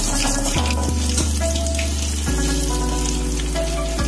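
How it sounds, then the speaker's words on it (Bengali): Cold water streams from a kitchen tap during rinsing, a continuous splashing hiss that stays steady and close throughout, with music playing underneath. "একটু ঠান্ডা জল দিয়ে ধুয়ে নেব"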